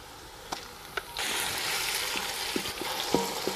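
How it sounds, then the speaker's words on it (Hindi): Garlic and ginger paste fries with lightly browned onions for a village-style fish curry, a steady soft sizzle starting about a second in, with occasional clinks and scrapes of stirring over it. "लहसुन और अदरक को अच्छे तरीके से भून लिया हमने."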